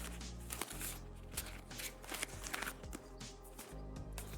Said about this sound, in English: I'm going to give this deck a little bit of a shuffle